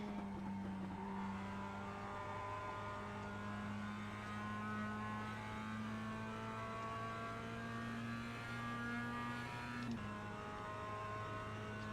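Mazda Cup race cars lap Mid-Ohio in iRacing with a sustained buzzing, high-revving engine drone, steady and close, with a brief gear shift near the end and no talking.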